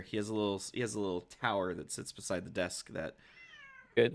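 An excited house cat lets out a short, rising meow during a pause in a person's conversation, then the talking resumes.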